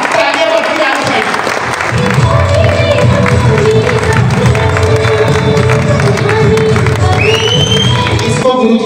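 Crowd applause at an event held at a palace venue, with dense clapping and some cheering that carry on steadily throughout, loud and close, mixed with voices.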